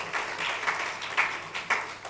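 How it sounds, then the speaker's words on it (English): Applause from a conference audience in Maun, a steady medium-loud patter of many hands with a few sharper claps standing out, continuing for a couple of seconds without voices. "another round of applause for Khosi"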